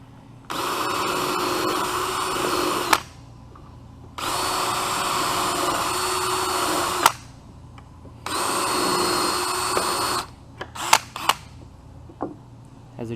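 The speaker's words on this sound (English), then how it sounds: "These are self-centering drill bits basically." A power drill running a VIX self-centering bit into laminate bench material, three sustained whirring bursts of about two to three seconds each, close and loud, separated by short pauses and followed by a few brief clicks and handling knocks.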